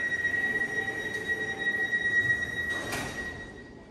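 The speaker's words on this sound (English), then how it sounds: "This train is now reaching the Bath Centre." An Elizabeth line train arrives at a station, its wheels squealing in a long sustained high whine over steady rolling rumble, with a brief hiss near the end.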